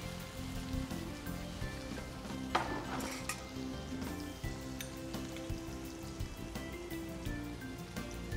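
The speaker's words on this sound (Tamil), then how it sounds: "நல்லா வதக்கணும் நல்லா லைட் கோல்டன் கலர் வரணும்" Chopped onions with salt sauté in a hot pan, giving a steady close sizzle broken by frequent scraping stirs from a spoon. No one speaks.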